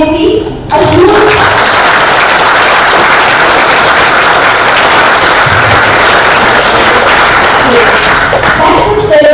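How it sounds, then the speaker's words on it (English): A large audience breaks into loud, sustained applause for dignitaries at a company's second anniversary celebration, dense clapping filling nearly ten seconds with brief voices at the start and near the end. "can you have a huge round of applause for all our dignitaries?"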